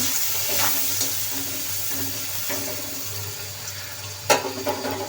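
Boiled banana stem being stirred with turmeric powder in a pan, giving a steady sizzling, watery scrape throughout with a sharper clatter of the spoon near the end; no one speaks.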